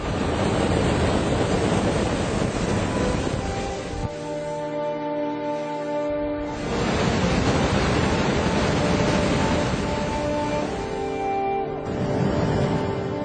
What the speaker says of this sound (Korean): 해안 절벽에 생긴 자연 구멍 틈새로 분출하는 파도.